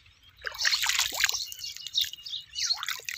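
Cold water from a tube well motor pump in a village trickles and splashes, irregular gurgling bursts close by over a faint low hum.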